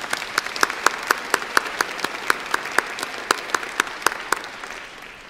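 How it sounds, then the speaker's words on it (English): Audience at a college convocation ceremony claps steadily for about five seconds, distinct individual claps standing out over a softer wash, fading near the end. "Let's give him a round of applause."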